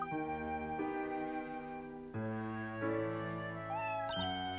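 Cat meowing in Professor Layton vs Phoenix Wright, a few sustained, tonal mews set over a layered melodic game background, each call clear and close with no talk.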